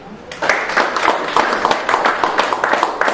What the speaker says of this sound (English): let's hear it by applause if you or your family served in the Army